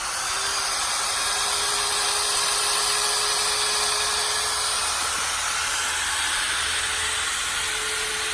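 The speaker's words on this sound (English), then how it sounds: "As you let off the trigger here, the pump will continue to run for just a second or so." A handheld polyurea joint pump runs continuously while purging material through its mixing nozzle, producing a loud, steady whirring hiss with no breaks or talking.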